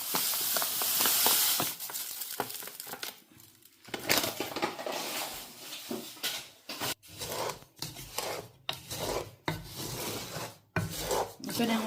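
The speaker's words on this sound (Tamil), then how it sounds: "இதை நாங்கள் அடி அடி பிடிக்காத அளவுக்கு நல்லா கிண்டி கொண்டுருக்கணும்" Sugar is stirred in a hot, dry pan while it caramelises, about a kilo for a homemade sweet, giving repeated close scraping and rasping strokes with brief pauses between them and no talk.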